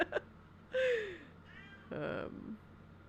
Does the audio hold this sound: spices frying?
no